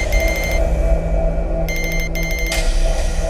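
A phone rings in short repeated electronic bursts with pauses between them, loud and close over a low background hum.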